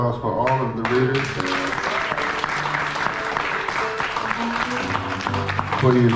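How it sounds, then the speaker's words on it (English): A crowd at a poetry and jazz evening claps for the readers, loud and sustained, with voices and tonal sounds running over the applause throughout. "Please, a round of applause for all of the readers."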